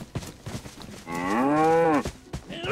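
A cow in the survival video game DayZ lets out one long, loud, tonal moo lasting about a second, with quieter game ambience around it and no talking.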